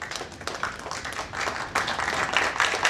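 An audience claps for the actors of a stage play about the Kakori train action, steady applause building slightly louder toward the end.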